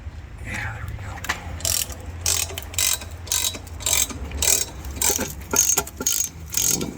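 A ratchet breaking loose spark plugs on an LS engine, brisk bursts of sharp metallic clicking in repeated strokes, close and fairly loud, with brief pauses between pulls.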